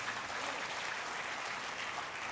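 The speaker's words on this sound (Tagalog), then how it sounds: "Palakpak sa Panginoon na malakas." Church congregation clapping together in a steady, dense burst of applause, fairly faint and heard alone without talk.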